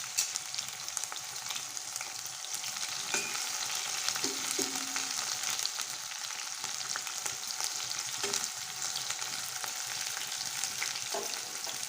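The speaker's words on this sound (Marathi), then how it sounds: "हिरव्या मिरच्या चांगल्या तळल्या" Green chillies fry in hot oil in a kadhai with a loud, steady hiss and crackle, a few sharper pops and spoon scrapes breaking through now and then.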